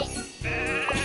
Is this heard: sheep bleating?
yes